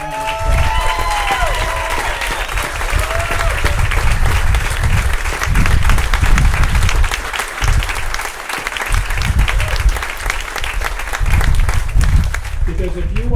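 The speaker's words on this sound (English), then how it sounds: "raise your hands and let's give them all a round of applause" A large audience at a medical school Match Day ceremony breaks into sustained, loud applause with scattered cheers and voices mixed in across the whole stretch.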